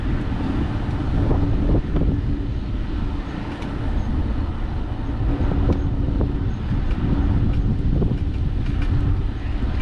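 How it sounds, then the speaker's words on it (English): Strong wind gusts at Summerland Key Airport in the Lower Florida Keys batter the microphone, giving a constant loud low roar and buffeting with scattered clicks throughout, and no one speaks. "it's definitely super windy"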